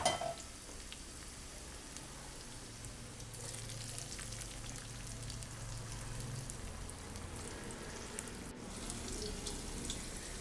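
Garlic, cumin and mustard seeds fry in tempering oil for a radish curd chutney, giving a soft, steady sizzle that hisses quietly and continuously throughout.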